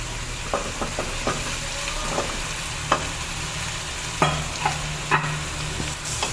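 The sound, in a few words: stirring potatoes frying in pan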